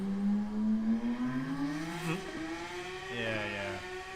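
A car fitted with an aftermarket exhaust revs in a played-back recording, its engine note climbing steadily, with a raspy, buzzy, moderately loud tone that holds for several seconds and rises again near the end.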